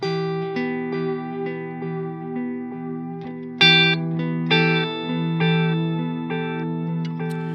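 Electric guitar runs through a delay pedal set for long tails, picking a steady line of single notes whose echoes ring and overlap, with a brighter accented note partway through and no talking.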